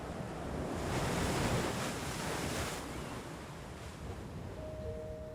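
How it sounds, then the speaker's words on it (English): Ocean surf washes in steadily against tall, ragged cliffs in Channel Islands National Park, a soft, continuous rushing swell with wind noise and gentle surges rising and falling. "Bright aqua waters crash against tall, ragged cliffs."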